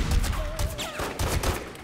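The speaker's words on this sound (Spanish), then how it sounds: "¿Quién me está disparando ahora, tío?" Rapid gunfire in The Godfather video game, a short dense burst of overlapping shots at moderate level, mixed with other game sounds, no one talking.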